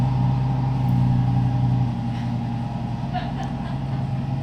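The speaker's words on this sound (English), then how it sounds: "That is the loudest truck." A loud truck engine rumbles past on a street, heavy and droning at first and then easing slightly as it moves on, with faint background noise and no speech over it.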